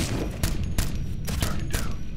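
Gunfire in the tactical shooter Ghost Recon Future Soldier: several sharp, loud shots at roughly even intervals over a steady rumbling background, with no talk.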